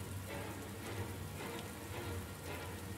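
Steady rain in the video game Heavy Rain, a dense, even hiss of drops on surfaces that continues without a break, faint and alone.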